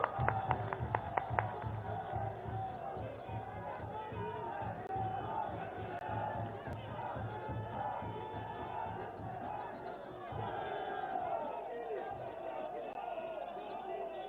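A large crowd at a political rally applauds and cheers as the Prime Minister is invited to speak. The noise is dense and sustained, with sharp claps near the start and voices shouting throughout.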